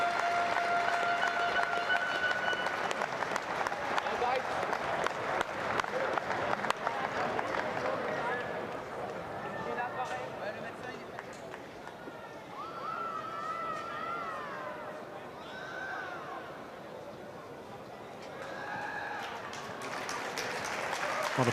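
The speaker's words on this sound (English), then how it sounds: "Applauding Damien Willemse as he makes his way off." Stadium crowd of Irish and South African fans applauds a departing player at a World Rugby U20 match between South Africa and Ireland, a broad steady wash of clapping and crowd noise heard at a distance beneath continuous commentary.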